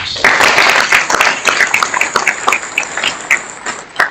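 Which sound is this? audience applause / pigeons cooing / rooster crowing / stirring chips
audience applause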